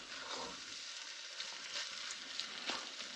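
A stir fry sizzles in a frying pan rather than a wok, a steady, faint hiss of frying with occasional soft crackles and no voices.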